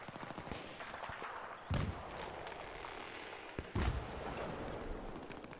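Battlefield 3 multiplayer on the Operation Metro map, with two heavy blasts from an explosion amid steady distant gunfire and combat noise.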